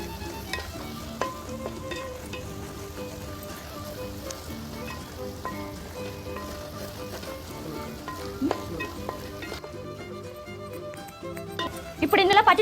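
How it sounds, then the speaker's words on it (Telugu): Ginger garlic paste fries in chili paste in a pan, a steady soft sizzle running throughout with someone speaking over it. "అల్లం కూడా పచ్చివాసన పోయేంత వరకు ఫ్రై చేసుకుందాం."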